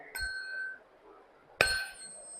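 A plucked steel wire on a sonometer in a school physics lab gives two sharp metallic twangs about a second and a half apart, each ringing briefly before fading, close and fairly quiet.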